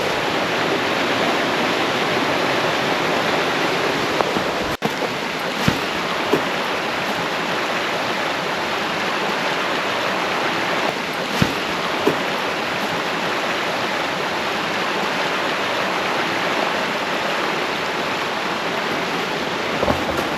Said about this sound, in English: right now we are over a creek